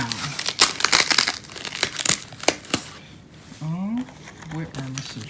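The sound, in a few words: tearing open packaging of a clutch kit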